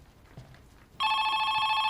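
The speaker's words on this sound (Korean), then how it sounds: "설상가상으로 이상한 전화까지 걸려옵니다" In a gas station, after a second of quiet room tone, a telephone bell starts ringing loudly and continuously, bright and close.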